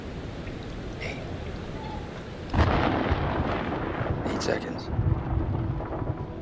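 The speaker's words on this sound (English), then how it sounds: "Storm's 8 miles away." Rolling thunder from a storm in the video game Man of Medan, with a sharp crack and a long rumble over steady rain, as a voice counts seconds.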